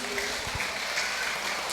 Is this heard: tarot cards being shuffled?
no